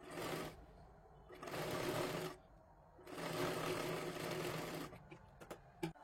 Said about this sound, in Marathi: हा अस्तरचा कपडा ह्याच्यावरती ठेवून आपल्याला शिलाई मारायची आहे